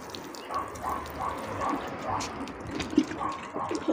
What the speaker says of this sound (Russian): Вот так поливаем потихонечку.